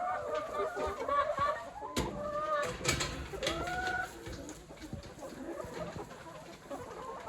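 Hens cluck and murmur around their new nesting boxes, soft intermittent calls at moderate distance with a few rising notes and light rustling, under quiet background noise.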